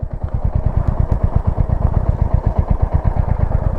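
A motorcycle engine on a slope near Nijagal Betta outside Bangalore, a rapid, even low thumping pulse, close and loud, with no voices.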